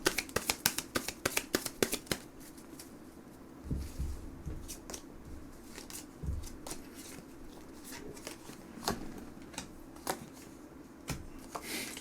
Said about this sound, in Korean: 일단 좋은 카드 한번 뽑아보도록 하겠습니다